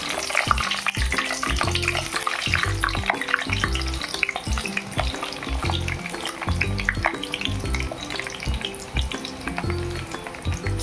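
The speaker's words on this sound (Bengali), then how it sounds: "তেল গরম হয়ে আসলে আমি একটা একটা করে পটল ভেজে নেব।" Pointed gourd (potol) pieces fry in hot oil with a loud, dense, steady sizzle that carries on without a break, along with faint clinks from the pan.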